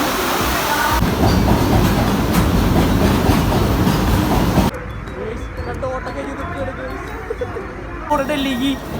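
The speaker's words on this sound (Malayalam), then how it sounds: "നമ്മുടെ ട്രെയിൻ എത്തിയിരിക്കുകയാണ്." A passenger train pulls into a station on arriving in Delhi, with loud rumbling carriage noise and clattering wheels that drop off sharply partway through to quieter platform ambience with scattered knocks.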